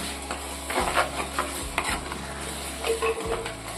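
Tomatoes and Kashmiri chili powder sautéed in oil for sardine and raw mango kuzhambu, a spoon scraping and stirring in repeated rhythmic strokes over a steady sizzle.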